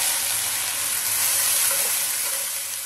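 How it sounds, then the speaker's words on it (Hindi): Chopped onions and masala with green chilli fry in a pan for mushroom do pyaza, producing a loud, dense, unbroken sizzle close to the pan, with no talking. "और इसको अच्छे से भूनेंगे।"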